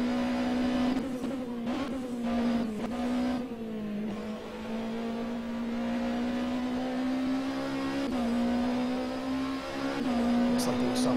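A race car engine at Sebring International Circuit drones steadily in a fairly loud, held note, dipping and rising briefly as the throttle is blipped, with some faint background noise.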